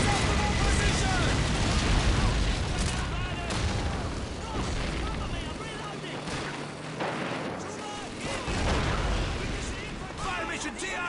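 Artillery barrage explosions in the Call of Duty 2 video game, a dense, continuous wash of booms and gunfire rumbling through the whole stretch at steady loudness, with battlefield shouting mixed in.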